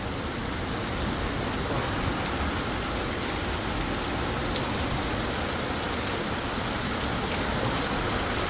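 Heavy rain pours down in a dense, unbroken roar that stays loud and steady throughout.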